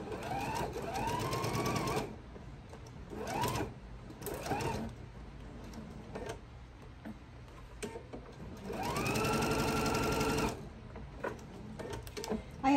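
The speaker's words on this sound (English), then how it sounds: "And then sew that straight across." A sewing machine stitching a straight seam across fabric, its rapid needle chatter coming in close, loud bursts of about two seconds each, with a longer run near the end and quieter handling pauses between.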